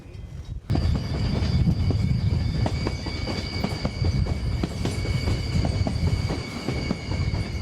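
The North Coast Limited passenger train runs on rails through western Montana, its wheels rumbling loudly and continuously with rhythmic clacks and a faint high squeal, with no voices.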